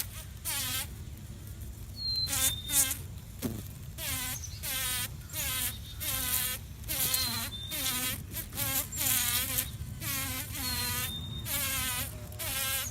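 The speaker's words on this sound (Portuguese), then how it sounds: "a belíssima abelha mamangava, ou mamangaba," A mamangava bumblebee of the genus Bombus buzzes close by in repeated droning bursts that swell and fade as it moves, with a few faint bird chirps behind and no talking.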